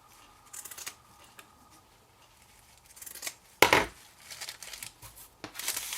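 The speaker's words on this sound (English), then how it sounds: "Let's just trim this opposite side down." Scissors trim the side of a paper sweetie snack pack, a few sharp, crisp snips and paper rustles breaking a quiet background, with the loudest cut near the middle.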